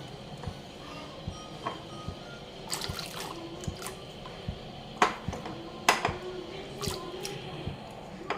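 Soaked chana dal tipped into a pot of salted water, giving soft wet plops, drips and small splashes at irregular intervals, with a few sharper splashes near the middle, close by and with no talk.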